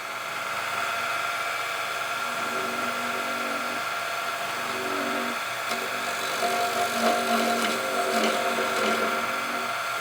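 A spinning wood lathe hums steadily while a detail gouge cuts a pizza cutter handle, with a continuous whirring drone and faint scraping of the tool against the wood, close by, no talking.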